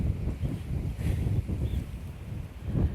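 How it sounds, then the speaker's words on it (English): Strong wind gusts through a garden and buffets the microphone with a low, uneven rumbling that swells and fades throughout. "I hope it's not this windy all day."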